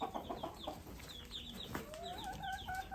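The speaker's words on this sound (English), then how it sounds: "Chicken." Chickens cluck and a rooster calls close by on a goat farm in Woodstock, Illinois, with several short repeated clucks amid faint farmyard background noise.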